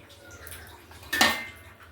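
A bowl of fish set down into water in a wok, one brief clattering knock with a light splash in the middle of an otherwise quiet moment.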